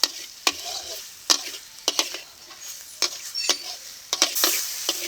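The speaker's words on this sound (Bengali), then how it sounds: "আলু দিয়ে আর একবার একটু কষিয়ে নেব" Potatoes being sautéed with spices in a pan, a steady sizzle broken by sharp scrapes and clacks of a spatula stirring at irregular intervals, close and clear with no talking.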